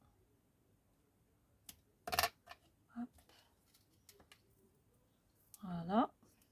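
Small scissors snip through decorative paper in a few short, close crisp cuts, with a brief spoken word and light handling clicks between them.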